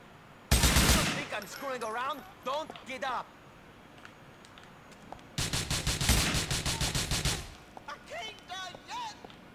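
Loud bursts of rapid gunfire in Grand Theft Auto IV, two sustained volleys separated by pauses, with someone talking between and over the shots.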